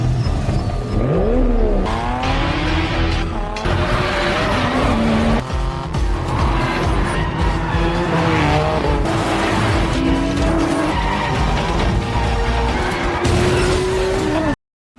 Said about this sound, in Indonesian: Setelah Takeshi muncul, balapan pun dimulai.